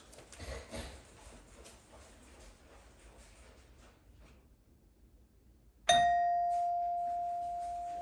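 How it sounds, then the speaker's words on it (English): A single bright electronic ding from a rear door chime rings out after a stretch of low background noise, its clear tone sustaining and slowly fading. "the rear gonna go ding, and then the front gonna go ding dong"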